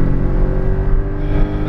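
A Porsche Cayman GTS engine accelerates on a race track in Las Vegas, a loud, steady, close engine drone with a dense low rumble that holds for under two seconds with no talk over it.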